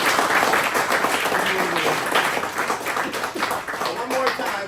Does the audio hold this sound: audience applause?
yes